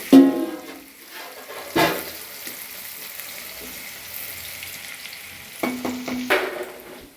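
Cumin, urad dal, mustard seeds and cut green chillies sizzle in hot oil as a tempering for masala sweet corn, a steady crackling fry with brief stirring clatters near the start and end.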